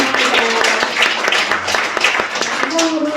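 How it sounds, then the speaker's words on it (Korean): Audience applause in a church hall at a Seodaemun community group launch event, a steady wash of many hands clapping with scattered sharp claps, fairly close, with voices murmuring over it. "박수 한번"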